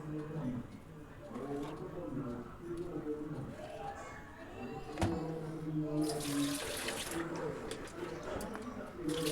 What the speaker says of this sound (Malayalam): 10 മിനിറ്റിന് ശേഷം നമ്മൾ ആ മുന്തിരി കഴുകിയെടുക്കുകയാണ്